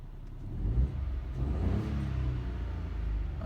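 A 2020 Ford Ka SE Plus engine idles high and rough just after starting, a steady low rumble with slight shaking, close by and with no talk over it.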